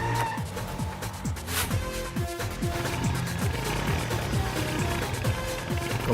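A motorcycle makes its entry into a movie fight scene with repeated tire skids and squeals over a dense, loud, continuous engine and action-soundtrack bed.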